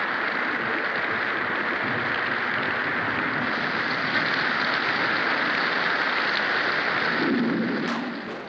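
Steady heavy rain pours continuously at close range, a dense unbroken hiss with no voices, easing slightly at the very end.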